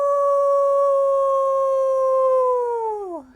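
A person imitates a wolf howl with a long, loud, sustained tonal wail that bends downward and fades at the end, alone and close.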